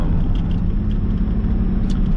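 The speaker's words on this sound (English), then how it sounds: "so it is a 2001 Chevy Silverado 1500" A 2001 Chevy Silverado 1500 pickup with a 5-speed manual hums from inside the cab, its engine a steady, loud low rumble with an even, unchanging drone throughout and no voices.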